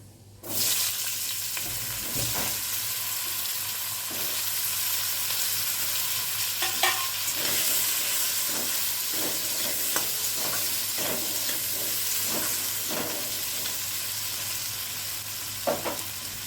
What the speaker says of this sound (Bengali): এখন আমি আলুগুলোকে ভেজে নিচ্ছি।